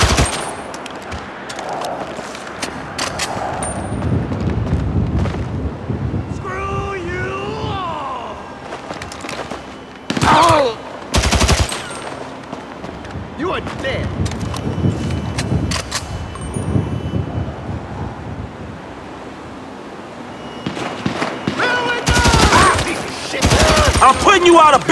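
Loud bursts of automatic gunfire and scattered shots in a GTA V shootout on PC, with heavy volleys crashing in near the end over a busy backdrop of action and occasional shouting voices.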